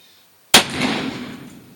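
A single sharp, loud gunshot from an 1858 Pietta black powder revolver cracks after a brief silence, followed by a lingering roar that trails off over about a second.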